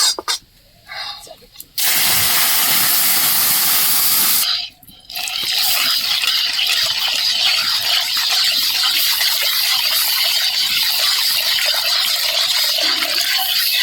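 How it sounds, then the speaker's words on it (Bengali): Milk poured into a pan of hot melted, caramelising sugar while making homemade yogurt, giving a loud, sustained hissing, sizzling gush after a brief quiet start, continuing steadily to the end. "এবার কিন্তু আমি দুধটা ঢেলে দেবো।"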